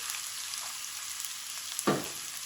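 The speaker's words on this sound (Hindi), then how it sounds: "अब प्याज उतनी देर फ्राई करेंगे जब ये थोड़ा थोड़ा ब्राउन कलर इनका हो जाएगा" Soft, steady sizzling of finely chopped onions frying in a pan, with a brief louder crackle near the end.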